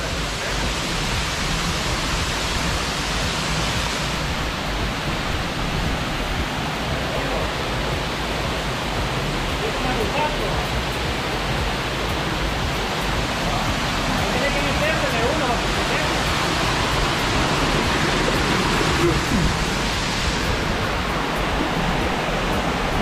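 Steady, dense rush of a waterfall fills the whole clip at Tejutepeque, El Salvador, a constant roar with no breaks, close and loud.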